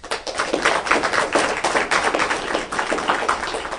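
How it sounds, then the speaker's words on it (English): A school district board of education meeting audience applauds a newly welcomed teacher, a brisk, even patter of clapping hands from a small room, close and sustained throughout. "A round of applause"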